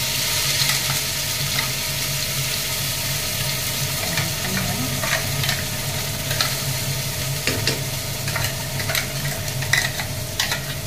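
Ridge gourd sabji ingredients fry in a kadhai with a continuous close sizzle and crackle, a steady bed of frying noise with small stirring clinks scattered throughout.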